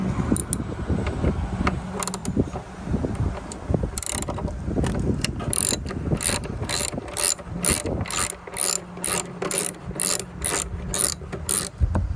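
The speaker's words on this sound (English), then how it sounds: "If the Phillips head driver doesn't work for you, just go ahead and use an 8mm socket." A ratchet with an 8mm socket backs out taillight screws on a Honda Pilot, close rapid clicking bursts in a regular rhythm after some handling noise, no speech.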